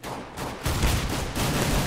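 Pistol fire in the game CS:GO, with a Tech-9 in use, comes as loud, close, sharp gunshots in quick succession over a short stretch.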